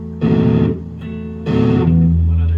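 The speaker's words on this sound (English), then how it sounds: "do you want some distortion or what?" A distorted electric guitar, a Charvel San Dimas, plays two loud, buzzy strummed chords with a pause between, the second ringing out and sustaining to the end.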